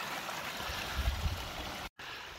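Mountain spring water flowing near Vârful Olanelor in the Romanian Carpathians, a close, steady rushing and gurgling stream that briefly cuts out near the end.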